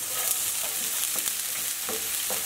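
Onion frying in hot oil in a pan, a continuous bright sizzle close up with occasional soft stirring scrapes.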